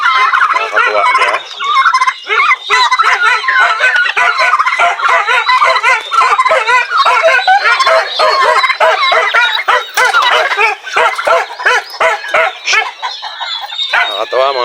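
Brooding hens kept in a backyard with pigs and poultry, a loud, close, nearly continuous flurry of rapid clucking and gobbling-like calls, with a voice talking over it.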